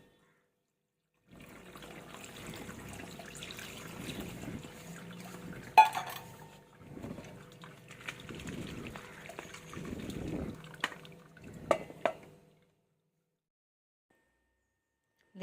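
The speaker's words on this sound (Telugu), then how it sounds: "చన్నీళ్ళు కూడా పోసుకుందామండి." Cold water pours onto boiled pasta in a kitchen pot, several splashing, trickling bursts separated by brief pauses, close and moderately loud with a clatter in between.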